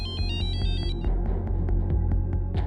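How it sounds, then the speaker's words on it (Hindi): An electronic phone ringtone plays a repeating tonal melody with a steady rhythmic pulse, clear and continuous. "उस रात जब मैं सो रहा था मेरे फोन की घंटी बजी थी"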